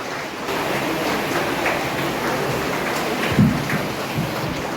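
Steady rain falls throughout an outdoor farewell function at a school, a dense, even hiss with a brief low thump partway through.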